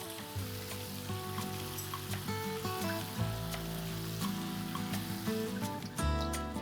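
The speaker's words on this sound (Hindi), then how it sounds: "अब पनीर को शैलो फ्राई करेंगे अच्छा सुनहरा रंग आने तक।" Paneer shallow frying in a pan of oil, a continuous crackling sizzle with sharp pops scattered through it, close and fairly loud, with music playing underneath.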